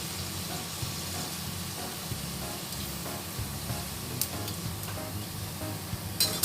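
Nasi krispi rice dough fries in hot oil, giving a steady, moderately loud sizzle with a few small pops and clicks near the end and no voices.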